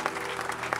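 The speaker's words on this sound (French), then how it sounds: "He deserves the clapping, brothers and sisters." Dense applause from a church congregation, steady clapping throughout the short moment.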